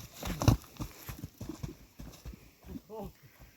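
Hooves clip-clop in an uneven rhythm on hard ground, close by, with a horse's short whinny-like call near the end.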